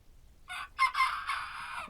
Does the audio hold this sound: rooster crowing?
yes